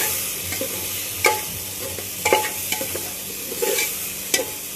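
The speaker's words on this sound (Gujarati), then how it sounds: "મસાલા એડ કરીને મસાલાને 1 મિનિટ માટે સરખા મિક્સ કરી દેવાનું કે જેથી મસાલા મસ્ત તેલની અંદર" Turmeric, chili and other spices sizzle in hot oil in a pan while a spoon stirs them, giving a steady frying hiss broken by scraping clicks and small pops; close and with no talking.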